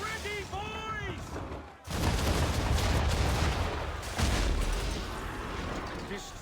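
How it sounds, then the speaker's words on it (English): Cannon fire from gunboats in Assassin's Creed 3, heavy booming blasts that roll into a long, loud rumbling roar, followed by a second blast, after a brief stretch of shouted talk. "Gunboats are about! Why is he shooting at us?"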